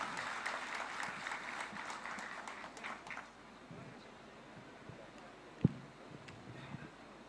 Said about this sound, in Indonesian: Boleh berikan tepuk tangan yang paling meriah untuk Pak Thorik.